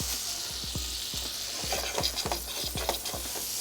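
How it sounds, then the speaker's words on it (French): Butter melting in a hot pan for a pineapple and rice pudding dessert, sizzling steadily with a bright frying hiss and soft pops, close by, with no talk over it. "Notre beurre, on va le faire fondre."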